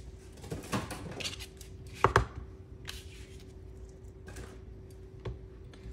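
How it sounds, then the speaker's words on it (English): A knife slicing an onion into thin strips for salsa on a cutting board, with a few light taps and one sharper chop standing out against a steady low background hum. "I always cut it this way, you get like a longer thin strip."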